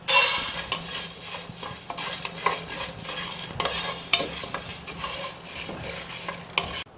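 Chana dal dry-roasting in a pan for sambar powder makes a loud, close, dry rattling hiss, with repeated scraping strokes from a stirring spoon throughout and no voices.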